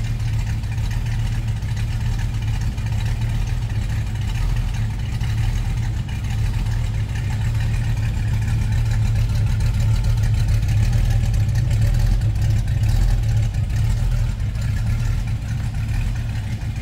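A 1966 Ford Mustang Shelby GT350-H Hertz car idles with a steady, deep engine rumble that stays even throughout, close and loud with no talking.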